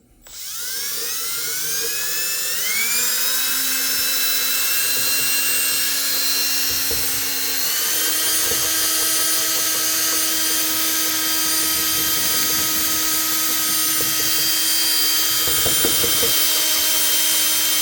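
A power drill with a mixing paddle stirs epoxy for a bathroom vanity, a loud, close, sustained motor whine that ramps up in pitch in two steps and then holds steady.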